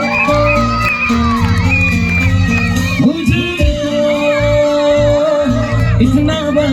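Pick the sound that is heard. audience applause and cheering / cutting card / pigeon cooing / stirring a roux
audience applause and cheering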